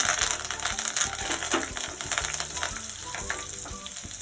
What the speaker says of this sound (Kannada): ಕರಿಬೇವು, ಒಣಮೆಣಸಿನ್ಕಾಯಿ ಹಾಕ್ತಾ ಇದ್ದೀನಿ.